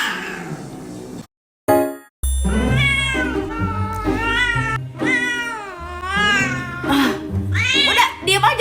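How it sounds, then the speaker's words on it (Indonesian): A cat meows repeatedly and loudly close by, in drawn-out, wavering cries with short pauses between them. "Aku punya kucing jelek."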